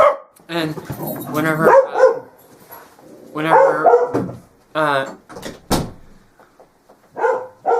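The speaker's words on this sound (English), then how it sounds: "sorry for the dogs barking." Dogs bark in a home, loud and close, over a person speaking; the barks come in repeated bursts mixed with whines, and a sharp knock or door-like thump sounds partway through.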